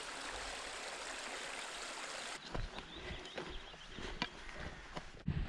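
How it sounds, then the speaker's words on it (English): A Lake District beck near Walla Crag bubbles and trickles softly nearby in a continuous wash of running water, later joined by scattered footsteps and light knocks. "The beck was a blissful spot, flowing ever gently downhill, whilst bubbling softly all the way."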